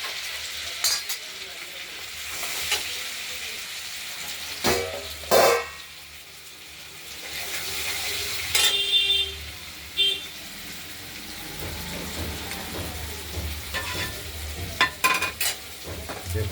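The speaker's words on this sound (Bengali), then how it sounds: "ভাজা হোক আলুটা।" Potatoes with salt and turmeric sizzle in a pan while a utensil scrapes and clinks in bursts of stirring, close up, with quieter frying between strokes.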